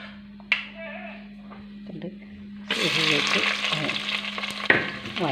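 Fenugreek seeds hit hot oil in a clay pot, starting a loud, steady sizzle and crackle that runs to the end, with scraping stirs and a faint voice in the background.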